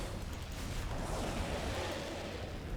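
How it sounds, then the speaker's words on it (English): Fireworks detonating in the StarCraft 2 co-op mutation Lunar New Year on Brutal, a steady dense rumble of overlapping bursts and crackle filling the whole stretch without pause. "those darn fireworks keep getting my probes"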